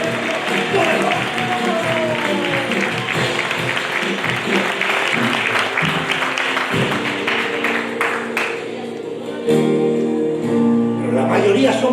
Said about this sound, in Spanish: Habrá alguien que pueda dar un fuerte aplauso.